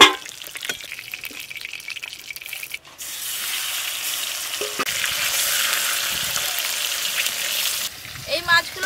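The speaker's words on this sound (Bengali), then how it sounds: "এই মাছগুলো লাল করে ভেজে নেব।" Stingray fish pieces fry in oil with a loud, steady, rain-like sizzle filling most of the stretch, preceded by quieter crackling and ending in a few clatters.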